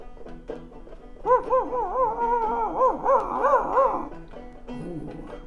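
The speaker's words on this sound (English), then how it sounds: "Ooh, sounds like dogs. Way over there." Dogs out on a plain bark and howl in the distance, rising and falling wails mixed with yips over a few seconds.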